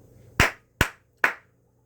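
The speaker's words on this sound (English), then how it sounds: "We are going to clap 3 times" Hands clap three times, sharp and evenly spaced, each crisp slap close and distinct against an otherwise quiet room.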